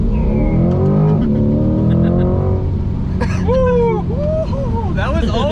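Chevrolet Corvette C8 V8 accelerating hard, a loud rising engine roar climbing through gears, with people shouting and talking over it.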